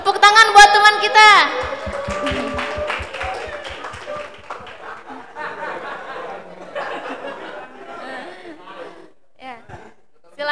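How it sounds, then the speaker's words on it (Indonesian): A brief round of clapping opens the clip as an audience at a university roadshow applauds a participant called up front, then fades into chuckles and ongoing talk. "Tepuk tangan buat teman kita"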